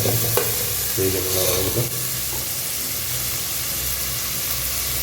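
Onions fry in a pan for a village-style fish curry, a steady loud sizzle with a few clinks early on. A voice speaks briefly over it.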